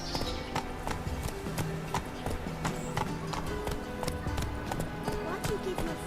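Roach the horse gallops in a race in The Witcher 3, a steady rapid clip-clop of hooves running under continuous game sound and voices.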